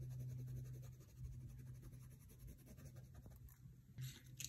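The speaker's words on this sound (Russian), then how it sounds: "А теперь желтым карандашом добавить еще сюда штриховку." A yellow colored pencil shades across paper in soft, quick, repeated scratchy strokes, faint and close, with no voices over it.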